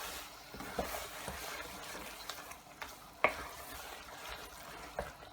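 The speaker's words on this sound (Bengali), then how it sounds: "এখন এটাকে অনবরত নাড়তে থাকবো।" Beef and vegetables with soy sauce are stirred in a pan over high heat, giving a soft, steady sizzle broken by occasional scrapes and taps of the spatula.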